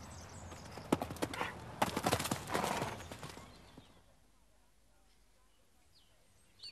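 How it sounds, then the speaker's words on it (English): Horse hooves clip-clop in a quick, uneven patter for a few seconds, then fade into near silence with a faint bird call. "It's owned by Gordon Plant, who breaks and trains pedigree horses"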